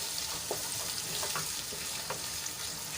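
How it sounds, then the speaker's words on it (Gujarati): Chopped onions fry in a pan with a steady, soft sizzle and occasional stirring scrapes, moderately quiet and without talk. "તો ડુંગળીને આપણે લાલ થાય ત્યાં સુધી અને ફ્રાય કરી લઈશું"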